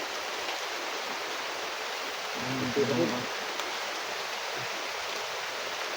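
Steady rain hisses as a broad, even wash of noise, with a voice murmuring faintly underneath partway through.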